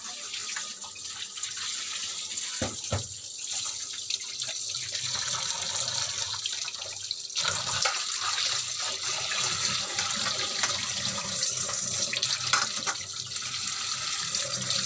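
Tap water runs steadily into a kitchen sink as cut rohu fish is washed by hand, a continuous close hiss of flowing water with small splashes and no talking.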